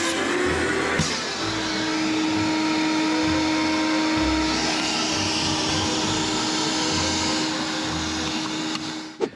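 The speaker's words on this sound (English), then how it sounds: "We're gonna go ahead and vacuum these thousands and thousands of rodent droppings out of here." A vacuum cleaner roars steadily at close range for the whole stretch, with a sustained whine and a rattling intake as debris is sucked up.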